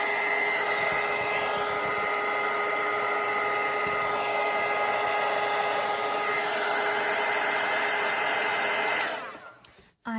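A hair dryer blows steadily and loudly over wet watercolour paint on paper, a constant whirring rush that runs alone for about nine seconds before switching off and winding down.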